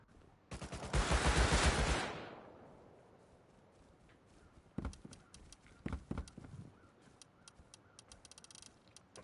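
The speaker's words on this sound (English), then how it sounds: "Sniper shots." Sniper rifle shots in Rust Console Edition: a loud close burst of rapid fire first, then a handful of fainter, sharp distant shots spaced a second or so apart against quiet ambience.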